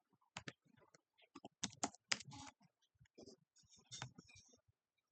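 Computer keyboard typing C source code, with bursts of clicking keystrokes interleaved with short pauses under a voice.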